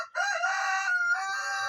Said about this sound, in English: Yes, you are a chicken.